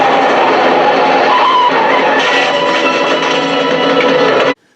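A big old car in a film backs up hard with its tires skidding, a loud continuous screech and engine roar that cuts off abruptly near the end.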